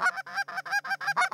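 A Canada goose gives a quick series of about seven sharp honks in a fast, even rhythm, close and clear, with no other sounds between the calls.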